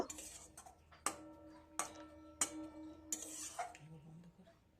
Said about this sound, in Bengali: এবার সব একসাথে নাড়াচাড়া করে দিয়ে এটাকে ঢাকা দিয়ে একটু সিদ্ধ করতে দেব।